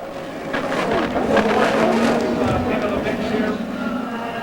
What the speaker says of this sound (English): Donuts up at the head of the pit straightaway.